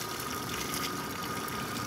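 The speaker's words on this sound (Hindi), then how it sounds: "ये तकरीबन एक फुट दूर पानी जाकर पाइप से गिर रहा है।" A solar water pump pushes water out of a half-inch pipe, making a continuous, close gushing rush with no pauses.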